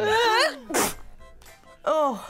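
A single sharp sneeze from a children's show host who is coming down with a cold, set between brief bursts of voiced laughter and exclamation.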